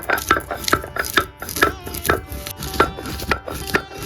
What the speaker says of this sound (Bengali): ভেজে নেওয়া গোটা মশলাগুলো শিলের উপর নিয়ে নিয়েছি। এবার এটাকে একটা মিহি গুঁড়ো করে নেব।